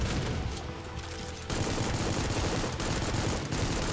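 Rapid burst gunfire rattles loudly and continuously in the shooter Supplice, a dense stream of bullets that briefly eases and then pounds on again at full volume.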